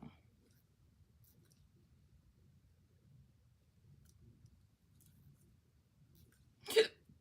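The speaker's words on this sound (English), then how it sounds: "my hiccup burp." A single short hiccup from a person knitting late at night, sounding once near the end of an otherwise quiet stretch, close and fairly loud against a faint low background.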